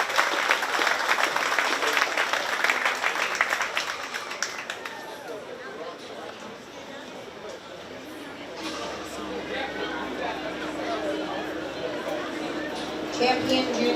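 Audience applause at a county fair 4-H sheep and goat show, dense clapping for the first few seconds, then thinning into scattered claps and crowd murmur, with an announcer's voice faintly underneath.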